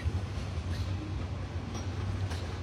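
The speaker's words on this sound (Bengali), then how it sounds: "নাটোর রেলওয়ে স্টেশন ছেড়ে যাচ্ছে এখন আমাদের কুড়িগ্রাম অভিমুখী কুড়িগ্রাম এক্সপ্রেস ট্রেনটি" The Kurigram Express pulls out of Natore railway station on a cold day, a steady low rumble and drone of the moving train with no talk.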